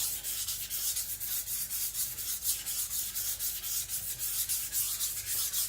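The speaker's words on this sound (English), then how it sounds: "I'm guessing I'm sharpening between 5 and 7 degrees" An IKEA Chinese cleaver is drawn across a sharpening stone at a very shallow angle in quick, regular back-and-forth strokes, a close, gritty hiss repeating steadily throughout.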